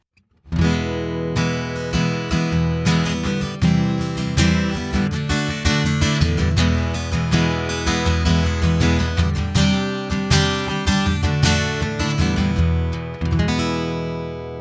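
A Line 6 Variax Acoustic 700 guitar on its jumbo model setting strummed steadily in full, ringing chords, loud and close, with no voice over it.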